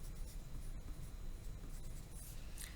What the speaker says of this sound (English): So I can easily write blue.